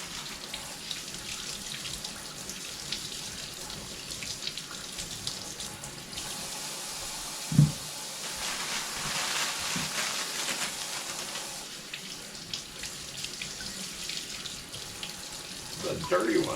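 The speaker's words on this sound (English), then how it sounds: "We just kind of lightly wash our potatoes off here." Tap water runs steadily at an outdoor sink on a homestead in Japan as potatoes are rinsed of dirt, a soft continuous splash with a brief thump midway and faint background activity.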